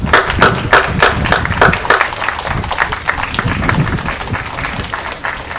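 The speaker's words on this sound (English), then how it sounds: "giving your applause to everyone in the audience that has helped you" Graduating seniors at a school commencement clap for the audience, loud close applause that begins with a few rhythmic claps and swells into dense, steady clapping from a large group.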